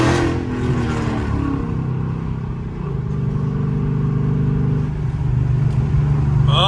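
A Chrysler 300 with a 5.7 Hemi V8, tuned with a 180 thermostat, accelerates on the road. Its engine gives a loud, steady drone with rising tone, heard from inside the car, with no one talking.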